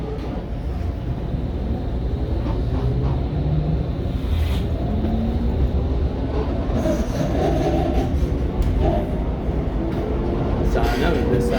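Light rail train ride on a new LRT line in Canada, with a steady rumbling roll, wheel clatter and occasional faint squeals running throughout, with people talking quietly over it.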